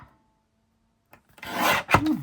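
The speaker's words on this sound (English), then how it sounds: "Maybe it's someone sanding." A short burst of gritty, rasping friction, like sanding, starts after a quiet pause and continues at moderate loudness, with one sharper scrape near the end.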